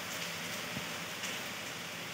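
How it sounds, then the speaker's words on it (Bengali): Heavy nonstop rain on a rainy day, a dense, steady hiss of falling water with no pauses, heard from indoors by a window. "এত বৃষ্টি সেই কাল সকাল 11টা থেকে শুরু হয়েছে, এখনো পর্যন্ত ননস্টপ বৃষ্টি চলেছে।"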